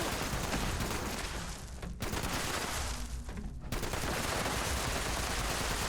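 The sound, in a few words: gunfire during fighting in video game Fallout 76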